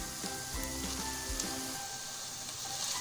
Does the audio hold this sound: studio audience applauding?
no